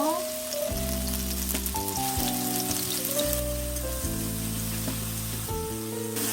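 Food stir-frying in olive oil with a little salt, a continuous crackling sizzle throughout, while a melodic tune plays over it.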